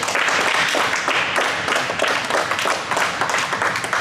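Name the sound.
team clapping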